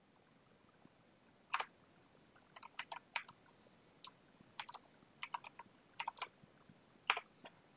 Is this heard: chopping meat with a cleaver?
no